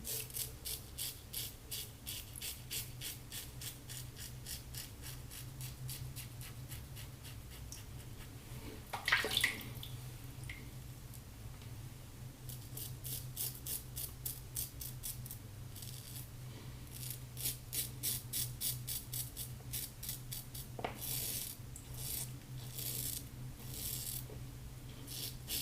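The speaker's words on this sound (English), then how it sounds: "just sort of letting the slickness of the soap allow the razor to move smoothly" A Maggard Slant safety razor scrapes through soap lather in light, steady strokes, a close, crisp rhythmic rasp repeating throughout with a brief louder scrape midway.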